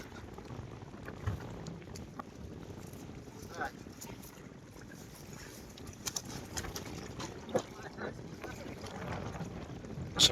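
Strong wind sweeping across a riverbank while fishing for prawns and fish, heard as a steady broadband roar with irregular gusts that buffet the microphone throughout.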